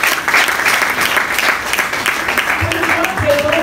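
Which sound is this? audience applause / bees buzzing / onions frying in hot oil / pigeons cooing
audience applause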